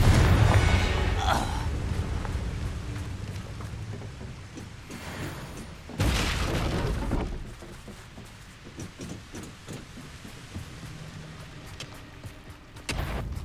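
Confringo fire spell explosions in Hogwarts Legacy on PS5: several booming blasts amid busy combat sounds, one especially loud burst near the middle, then rumbling decay and further spell impacts.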